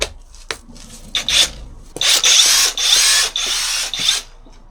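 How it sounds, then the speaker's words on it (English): A battery-powered impact wrench undoes a car wheel nut on a Mercedes SL, firing in several loud, rasping bursts: two short ones, then longer sustained runs close to the mic. "And I got my battery powered impact wrench as well."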